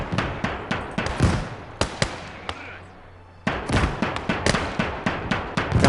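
Gunfire in the WWII strategy game Call to Arms: Gates of Hell on the Eastern Front, with a tank crew nearby. Rapid crackling volleys and sharp shots, loud and dense, pause briefly, then resume as steady rhythmic firing.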